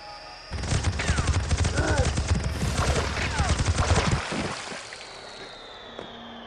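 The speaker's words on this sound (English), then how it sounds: "the minigun is pretty nice in this game" A minigun in a dinosaur-hunting video game fires a rapid, dense burst of shots for about four seconds, loud and continuous, then stops, leaving faint game ambience.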